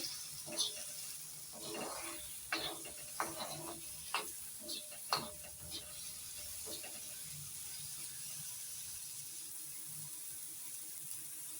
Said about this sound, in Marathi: त्याला हे एक पळी तेल घातलं आणि छानपैकी तो परतून घेणार आहे